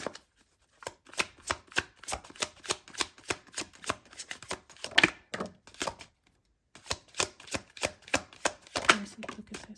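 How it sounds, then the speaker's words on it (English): Tarot cards shuffled and drawn from a deck, a fast run of crisp slapping riffles and flicks in bursts with short pauses, close and fairly loud, no voice. "Let's grab two more cards for you."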